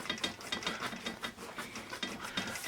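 Magic Rub vinyl eraser scrubbing over pencil graphite on paper, a steady run of close, brisk scratchy rubbing strokes with no talking.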